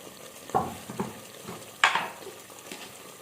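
Lahori chickpea curry masala frying in oil while being stirred, a soft low sizzle with several distinct spatula scrapes against the pan, fairly quiet and close, no speech.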